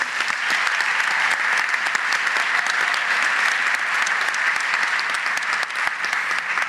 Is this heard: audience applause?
yes